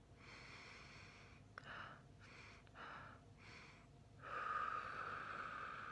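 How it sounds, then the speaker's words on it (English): Slow, deep breaths drawn in and pushed out, close and quiet, in several distinct rushes of air with brief pauses between, the last exhale longest and loudest. "as you're continuing to take deep breaths, try changing the way you're breathing"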